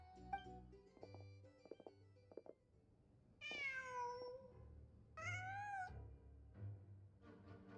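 A cat meows twice within the video game Genshin Impact, each call clear and fairly close with a rising then falling pitch, set against soft game music and ambient tones.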